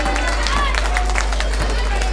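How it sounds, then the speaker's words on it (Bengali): Audience at a school cultural program claps in scattered, uneven bursts amid crowd murmur, with talking over the top. "সকলে একটু হাততালি দিন"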